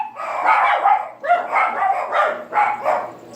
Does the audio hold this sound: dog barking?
yes